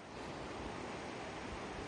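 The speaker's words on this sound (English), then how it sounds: "Here's the rapid." Rushing river rapid with a strong, steady broadband roar of churning whitewater, continuous and close, with no voices over it.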